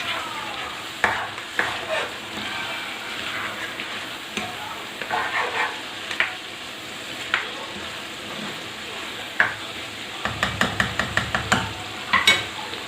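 Charsi karahi with chopped ginger and fresh coriander sizzles steadily in a pan while a utensil stirs it, giving scrapes and knocks over the frying hiss, with a quick run of clinks near the end.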